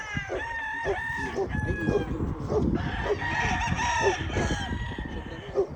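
Several gamefowl roosters crow loudly and repeatedly at close range with clucking between calls, while people talk nearby at a cockfighting game yard.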